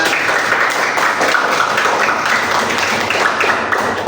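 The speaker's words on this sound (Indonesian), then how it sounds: "Beri tepuk tangan untuk kelompok 3." Students in a classroom clap for group 3, a dense, continuous burst of many hands, loud and even with no clear pauses.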